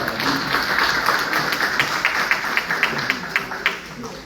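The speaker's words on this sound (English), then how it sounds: "You all please join me in giving Dr. Davis a round of applause." An audience claps at an Alabama Democratic Conference Perry County political event, a steady patter of hands that carries evenly throughout the moment with no talking over it.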